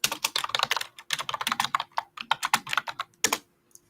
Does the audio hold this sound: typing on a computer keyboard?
yes